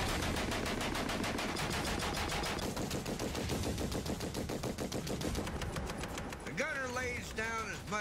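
Machine gun suppressive fire from an M8 Greyhound armored car sounds as a loud, continuous rapid-fire burst in a steady rhythm, and a voice talks over the end of it.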